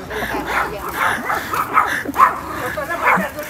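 Dogs bark and yip in several short bursts on a street, fairly close, with people reacting in the background.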